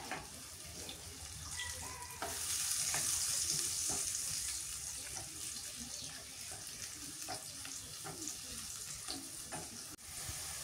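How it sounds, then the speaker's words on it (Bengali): Onions fry in hot oil with a soft continuous sizzle and crackle, quiet and close, with faint stirring and water-like hiss throughout. "পেঁয়াজটা তেলের মধ্যে ভালো করে ভাজা নেওয়া লাগবে"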